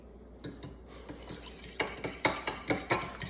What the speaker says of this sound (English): now you're gonna wanna beat the eggs